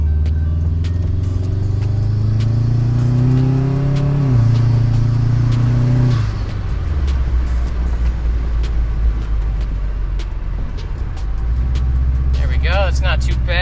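Close, loud engine note from a turbocharged Subaru car with an overboost problem, accelerating at half throttle: the pitch climbs steadily for several seconds, then drops away into a lower, steady drone.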